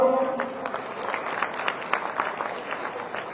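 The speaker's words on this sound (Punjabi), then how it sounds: "ਜੇ ਸਹੀ ਹੈ ਤਾਂ ਤਾੜੀ ਮਾਰੋ" A crowd applauds steadily at a Punjab Congress rally in Jalandhar, a dense, fairly even clapping that fills the whole stretch at moderate loudness without a break.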